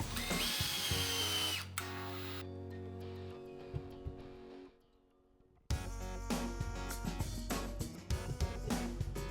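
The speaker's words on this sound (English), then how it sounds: "take the stainless screws and screw them into the pre-drilled holes" A power drill drives stainless screws through iron piping into pre-drilled cedar in loud whirring bursts that rise and bog down under load. It pauses and drops almost to silence before a final strained run, with no voices.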